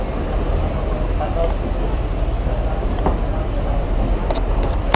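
Steady rumble of a passenger train riding the line to Tenom, a constant loud rolling drone with faint clanks throughout and no talk.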